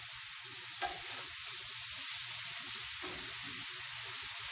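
Food sizzles steadily in a frying pan while being stirred and mixed, a continuous bright hiss with soft scraping stir strokes, close and fairly loud, with no talking.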